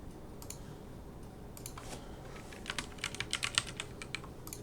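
Notes are typed on a computer keyboard as a quiet, uneven run of key clicks that thickens into a quick burst near the end.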